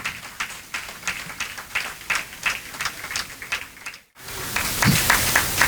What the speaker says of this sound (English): how about I have a round of applause for all of you first?